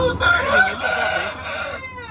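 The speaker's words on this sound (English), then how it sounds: "So that's Dong Tao Chicken." Đông Tảo chickens on a Vietnamese farm cluck and crow loudly at close range, a dense overlapping chorus of fowl calls with a rooster's crow standing out.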